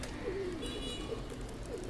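Pigeons cooing softly in a rooftop loft, a pair of low, repeated coos spread across the moment over steady outdoor background noise.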